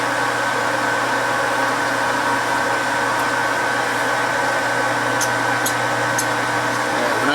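A metal lathe running on a slower gear speed gives a loud, steady mechanical whir and hum throughout, close and unbroken, with faint ticks near the end and no talk.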